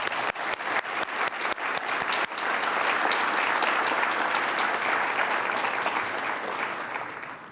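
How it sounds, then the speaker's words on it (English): Audience applause at a statue unveiling ceremony honoring Mary McLeod Bethune, opening with a few sharp separate claps before swelling into sustained, dense clapping from a large crowd that fills the space and holds steady to the end. "Let's give them a round of applause, please."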